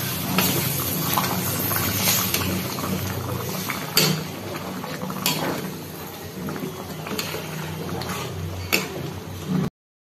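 Hot water goes into a pan of cauliflower and rice with fried-down spices, a loud rushing, bubbling pour lasting nearly ten seconds with occasional clanks of utensils, then cutting off sharply.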